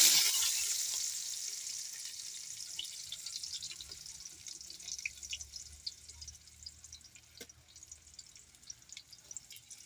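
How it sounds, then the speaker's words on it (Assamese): Onion dropped into hot oil bursts into a loud hiss that gradually settles into a steady, crackling sizzle with quick popping spits, close up and without speech. "তেল গৰম হ'ল, পিঁয়াজ এড কৰিম।"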